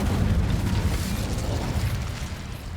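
A fiery Incendio spell blast from the Hogwarts Legacy video game, a dense, loud roaring burst with heavy low rumble that holds steady for nearly three seconds and tapers slightly at the end, with no talk.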